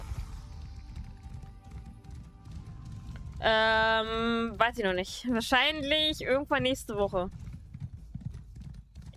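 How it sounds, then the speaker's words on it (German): Hooves of a galloping horse in Elder Scrolls Online thud in a steady clip-clop rhythm throughout, partly under a person talking for several seconds. "Pferdchen, lauf, galopp."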